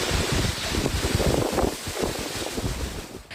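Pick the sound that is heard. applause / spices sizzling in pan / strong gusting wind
strong gusting wind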